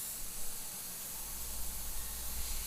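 An airbrush sprays paint in a steady, continuous hiss while shading the eye sockets of a hooked tribal skull design. The spray is close and even, running alone without any talk.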